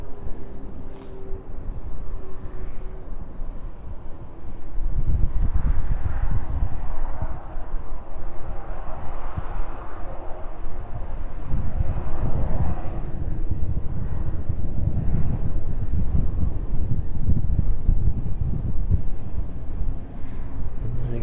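Regional airliner, an RVL flight arriving from Bristol, landing at East Midlands Airport on runway 27 in the evening, a distant low rumble that swells and lingers amid wind buffeting on the microphone.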